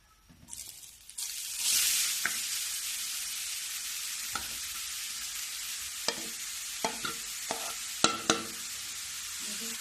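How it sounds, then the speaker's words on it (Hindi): Grated carrot dropped into hot ghee, a loud sizzle building after the first second and settling into steady frying, with sharp scrapes and clinks of a spoon stirring the pan at intervals. "अब इसी में मैं जो घस के रखी हूँ गाजर ये डाल दूंगी।"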